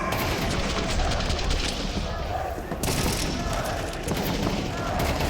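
Rapid gunfire from a Counter-Strike esports grand final match at IEM Cologne 2024, dense continuous shots and bursts filling the whole stretch with a brief dip midway, mixed under crowd and broadcast noise.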